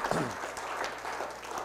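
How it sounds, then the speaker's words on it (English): A church congregation claps at the close of a sermon, a quiet, moderately dense patter of hands with some voices murmuring underneath. "Give God a hand clap"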